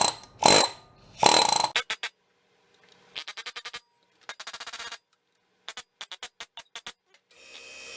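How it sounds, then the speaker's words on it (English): An air hammer pounds a stuck threaded part in bursts: two long loud blasts open, then several groups of rapid staccato hits separated by short silent pauses. "we'll hit it with an air hammer."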